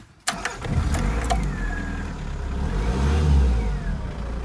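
A Rover Maestro diesel engine with a suspected fuel fault cranks briefly after the glow plugs warm, catches and settles into a loud, rough running idle that rises slightly near the end, heard close up without speech.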